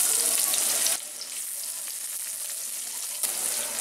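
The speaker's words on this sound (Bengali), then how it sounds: "সেই জন্য আমি এবার দিয়ে দেবো কুচনো পেঁয়াজ" Chopped onions hit hot oil for Bangladeshi bhuna khichuri with a loud, bright hiss that settles into a steady, slightly quieter sizzle with faint crackles.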